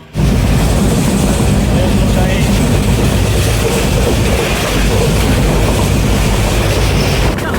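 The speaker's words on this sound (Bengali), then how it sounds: "আর এখন আমাদের ট্রেনটা চলে আসছে" A Kalni Express train arrives at a station bound for Sylhet, a loud continuous rumble and roar of the approaching train with no clear break.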